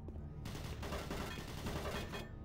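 Automated turret guns in the video game Doom 3 fire a dense, continuous burst of rapid gunfire that stays loud and sustained throughout, with no talking over it.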